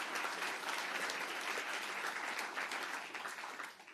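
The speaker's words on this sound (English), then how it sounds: "you're clapping a little prematurely" Audience applause at a political speech on Title IX and fairness in women's sports, a dense, steady wash of many hands clapping throughout, fairly distant and unbroken, with no talk over it.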